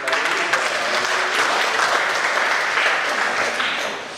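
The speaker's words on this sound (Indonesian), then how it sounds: "Kita salut untuk itu, kita berikan aplaus." Steady, full applause from an audience at a cooperative members' meeting, dense continuous clapping that holds strong and then tapers slightly at the end.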